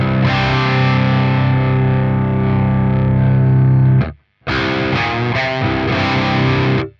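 Heavily distorted electric guitar through a Neural DSP high-gain amp model plays sustained chords loudly, cuts off for a brief silence, then returns with chugging, palm-muted riffing.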